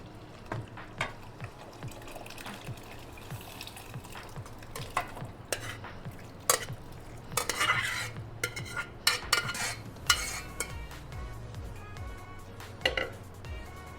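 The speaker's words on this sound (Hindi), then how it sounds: "इसको चलाएंगे अच्छे से।" Mashed chole being stirred into gravy in a pan: soft, wet scraping and stirring with a faint sizzle and occasional clinks of a spoon on the pan, close and quiet.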